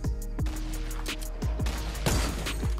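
Gunfire in an online shooter during a sniping montage: a few sharp, loud cracks spaced through a short stretch, each with a quick falling tail, over game background noise.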